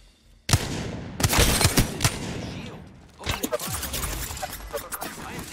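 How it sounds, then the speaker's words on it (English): Loud, close gunfire in the video game Apex Legends: a sharp shot, then rapid automatic bursts and scattered shots with short pauses between them. "I am taking fire, friends."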